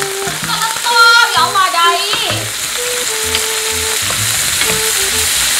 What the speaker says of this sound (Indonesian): Lalu kita goreng lah, bukan goreng, kita tumis bahan-bahan seperti bawang putih dan juga bawang merah.